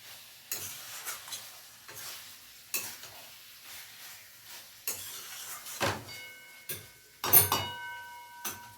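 Banana flower curry fries in oil in a pan while a spoon scrapes and stirs, giving quiet sizzling under repeated sharp scrapes and clinks at an irregular pace, near and fairly soft.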